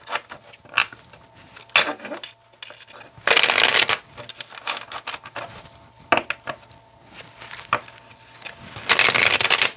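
Deck of slightly worn romantic tarot cards being shuffled by hand, up close, with bursts of riffling and rapid flutters and soft taps in between, repeated steadily across the clip with no voice.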